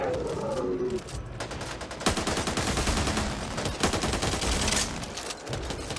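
Shotgun blasts and sustained gunfire in the video game Back 4 Blood, a loud continuous barrage of overlapping shots with sharp louder reports, no clear talk.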